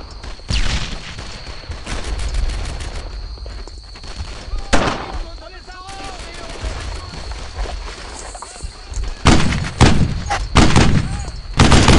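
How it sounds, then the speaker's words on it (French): Grenade blasts and gunfire ring out in the WWII shooter Brothers in Arms: Earned in Blood: several sharp, loud explosive bursts stand out over a continuous battlefield din, with scattered shots in between. "Attention, je lance une grenade!"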